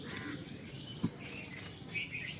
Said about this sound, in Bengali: একজন নতুন বাচ্চা চিচি করে